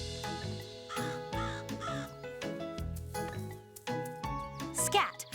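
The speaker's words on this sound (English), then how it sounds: "Oh, those pesky crows." Crows caw repeatedly in a garden, the calls coming in loud bursts mixed with a cartoon music score and other background effects.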